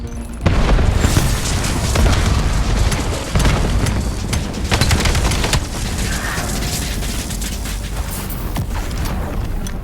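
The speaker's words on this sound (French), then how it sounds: "Grenade frag envoyée." Heavy booming blast of a frag grenade in Call of Duty Black Ops 7, loud and dense, followed by sustained rumbling battlefield noise with scattered gunfire-like bursts throughout.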